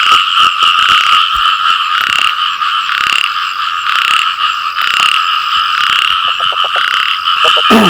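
Dense chorus of frogs croaking steadily, with a few rapid clicking calls near the end, all heard at night by water during frog catching, with no talking.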